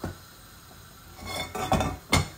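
A metal pot knocks and clanks a few times on a hard surface, quiet at first then several close, sharp clinks near the end.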